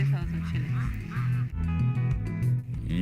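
Ducks raised for meat calling with repeated nasal quacks at close range, mixed with a person talking over them.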